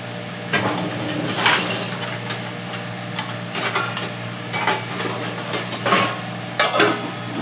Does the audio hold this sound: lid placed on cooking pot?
yes